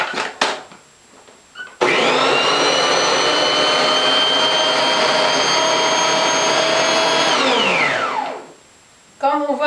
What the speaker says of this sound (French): Et on mixe le reste dans notre robot de cuisine.